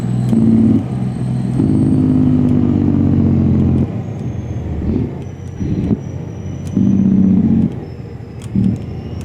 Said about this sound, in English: we're going to put the truck away